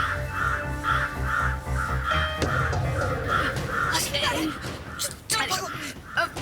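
Black crows cawing in repeated harsh calls, mixed with a busy soundtrack and voices from a children's TV comedy episode.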